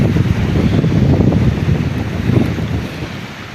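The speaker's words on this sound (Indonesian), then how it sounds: "angin menggila" Strong wind at sea roars steadily and loudly, buffeting close to the microphone with a dense, low rumble and occasional gusting surges over the sound of the water.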